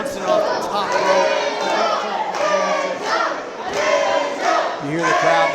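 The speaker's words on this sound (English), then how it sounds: "You hear the crowd now getting behind the real one" Wrestling crowd in an arena shouting and chanting in rising, rhythmic surges, many voices swelling loudly together and then dipping briefly before building again.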